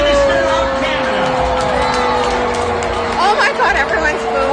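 A large Calgary Stampede crowd boos as Mark Carney is introduced, a dense, steady roar of voices with a louder swell near the end and an amplified voice running underneath.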